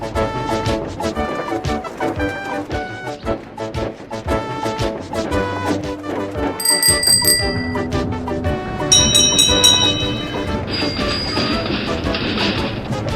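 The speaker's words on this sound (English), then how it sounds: "Toby rang his bell and made the policeman jump" Toby the tram engine, a steam tram, rings his bell: bright metallic chimes sound in a few clusters over rumbling, clattering wheels and trucks, fairly close.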